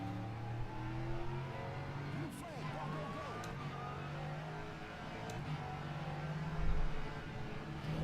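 An LMP3 race car engine in the rFactor 2 racing game drones and revs steadily with rising and falling pitch as it shifts, at moderate level throughout, with some faint talk.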